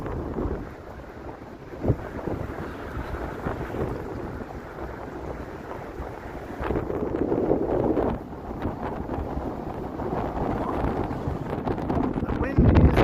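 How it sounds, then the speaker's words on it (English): Gusty wind buffets a microphone outdoors on a cold evening in downtown Toronto, a steady low roar that swells louder midway and near the end, with a person talking over it. "The wind is nasty right here, I'll tell you."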